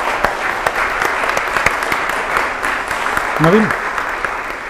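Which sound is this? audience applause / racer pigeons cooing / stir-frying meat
audience applause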